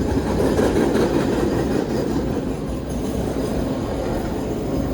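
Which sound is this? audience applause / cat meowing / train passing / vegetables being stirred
train passing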